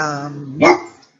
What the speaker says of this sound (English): He has a very big bark, but he is such a big suck of a dog.